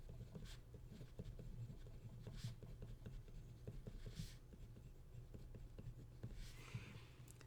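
Steady scratchy strokes of writing on a board during a math lesson, soft and continuous with a faint background hum.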